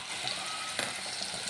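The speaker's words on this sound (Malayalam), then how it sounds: "ഈ നെയ്യിൽ ഇതിങ്ങനെ റോസ്റ്റ് ചെയ്യുക" Banana slices roasting in ghee in a pan, a soft continuous sizzle with faint crackle, close and steady throughout.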